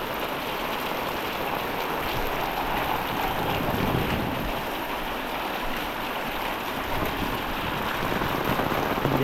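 Heavy monsoon rain pours steadily and loud in the Konkan, a dense continuous hiss of downpour with no break or voices.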